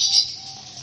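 A songbird gives a sharp, bright chirp up front that fades into a softer sustained call. The bird is close and fairly loud over a quiet background, with no one talking.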